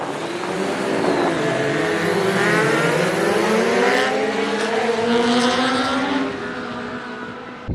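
Several race cars launch from a light start at a circuit during a British racing licence track test. Engines rise together in overlapping, climbing revs, loud and sustained, then ease off toward the end.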